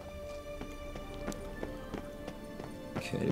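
Kelpie, a horse in The Witcher 3, gallops with a steady run of sharp clip-clop hoofbeats, moderately loud and roughly evenly spaced, over faint game ambience.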